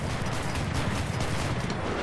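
Battle noise from the World War II video game Enlisted, with tank cannon fire heard from a Panzer II C crew position: dense, loud, continuous blasts and rumbling gunfire, without speech.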